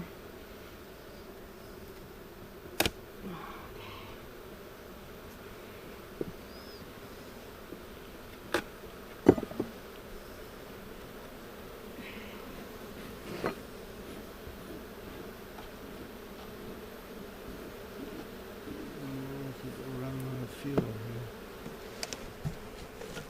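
Honey bees hum in a low continuous buzz during an inspection of a large hive after a swarm, close and steady, with occasional sharp knocks and clicks from the hive parts and equipment.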